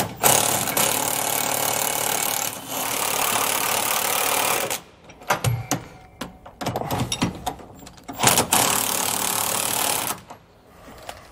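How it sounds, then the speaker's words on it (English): Impact wrench snugging leaf spring shackle bolts with a 15/16 inch socket on a 2009 Workhorse W-Series motorhome chassis, loud close rattling bursts broken by short pauses and clanks. "We're going to snug them up first here with our impact,"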